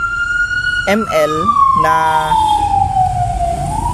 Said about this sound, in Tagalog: maraming ambulansya kasi malapit lang dito yung ospital eh